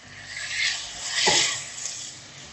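Chicken with turmeric, cumin, coriander and garam masala stirred in a pan, a soft continuous scraping and rubbing that swells and fades with the strokes.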